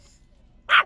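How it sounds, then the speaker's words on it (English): A single short dog bark or yip near the end, fairly close and sharp, after a quiet room with faint background murmur. "Quit barking."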